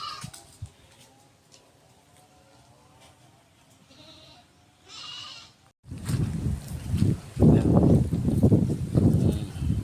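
Well-fed goats back from grazing with their herders bleat and call repeatedly, fairly close, quieter at first then louder and more crowded in the second half.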